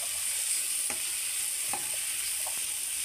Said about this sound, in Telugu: పసుపు వేసి కలపాలి.